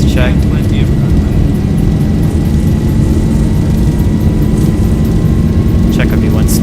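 Simulated airliner engines roar steadily during the takeoff roll in the X-Plane flight simulator, loud and unbroken, with a voice faintly present under the drone.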